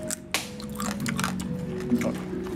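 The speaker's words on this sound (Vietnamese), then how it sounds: "Nhai nghe rộp rộp rộp luôn" A big mud crab claw being chewed, giving crunchy, crackling bites and soft squishy chomps up close over about two and a half seconds, with a faint steady tone in the background.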